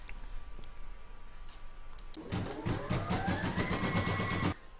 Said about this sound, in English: And now pop it in your machine and stitch round number two, which is going to attach the batting